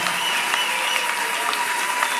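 Congregation applauding and cheering loudly in honour of Jesus at a church service, a dense steady wash of clapping that holds evenly throughout.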